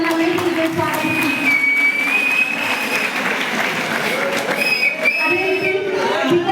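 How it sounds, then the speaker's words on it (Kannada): Loud, steady applause from an audience welcoming cricket players onto a stage at a T20 tournament prize ceremony, sustained clapping with crowd noise throughout. "ಜೋರಾದ ಚಪ್ಪಾಳೆ ಮೂಲಕ ಇವರೆಲ್ಲ ವೇದಿಕೆಗೆ ಸ್ವಾಗತಿಸಿ"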